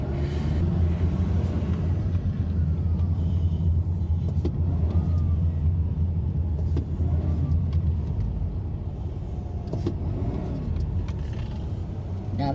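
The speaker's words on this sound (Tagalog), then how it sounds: "iwas na kayo dahil sobrang traffic po talaga" Heavy, slow-moving traffic on the Cavitex expressway, a steady loud low rumble of car engines close by with occasional passing vehicle swells and faint brake hiss throughout.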